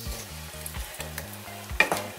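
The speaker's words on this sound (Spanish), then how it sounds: "Y lo vamos a mezclar todo." Sweet and sour chicken is stirred in a sizzling frying pan, a steady crackle of frying under a few soft scraping strokes of a spoon and a brief clink, close and fairly quiet with a low hum behind it and no talk.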